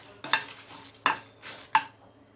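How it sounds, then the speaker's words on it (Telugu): Dry red chillies and coriander seeds roast in a pan for stuffed parwal curry, with four crisp rattling scrapes of a spoon stirring them, close and clear over a faint low hum. "మిరపకాయలు ఇలాగ వేపాలి తర్వాత ధనియాలు వేయాలి ఇవి కూడా కలపాలి"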